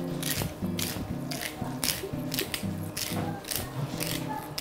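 A pepper grinder cranked over a meatloaf mix, giving a steady run of gritty ratcheting twists, close and fairly loud, with low background hum and faint chatter.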